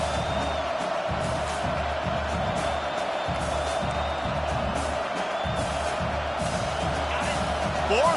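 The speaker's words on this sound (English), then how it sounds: "Fourth down, and this crowd is making it miserable on this offense." Roaring football stadium crowd during a fourth-down play, a steady dense wall of noise that holds loud and unbroken throughout, with faint whistles or shouts riding on top.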